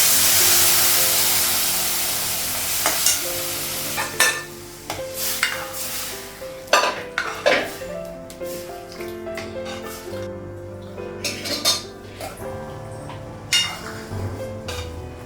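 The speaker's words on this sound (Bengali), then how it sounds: "এই যে এক ঝুড়ি বাসন ধুলাম" A basket of dishes and pots, including a kadai, being washed in a home kitchen: running water hisses while plates and metal pots clink and clatter in irregular bursts, with no speech.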